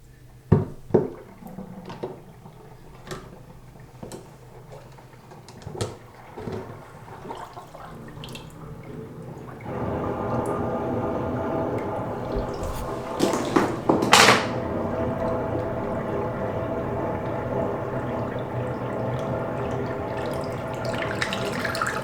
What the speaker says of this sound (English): I'm gonna go dump that water out.